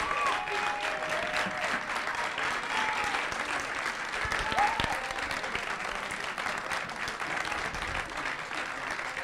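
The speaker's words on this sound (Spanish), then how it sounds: "El público deberá aplaudir con potencia al robot de Tormenta" A crowd at a Hebocon robot contest claps hard for a robot during a clap-o-meter vote. The applause is steady and sustained, with whistles and a few shouts mixed in.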